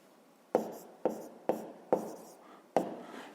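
Digits written by hand on paper during a fifth-grade math exercise: five sharp, evenly spaced pen strokes, each a crisp tap with a short scratchy tail, close and quiet.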